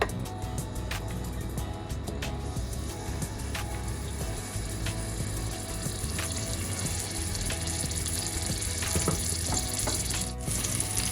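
Steady crackling sizzle of ginger frying in hot oil, close and continuous, with occasional sharper pops and spatters.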